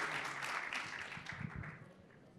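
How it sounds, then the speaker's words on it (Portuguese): Faint, distant applause from an audience at a conference panel, a steady patter of clapping that fades slightly toward the end. "Uma salva de palmas, gente, por favor."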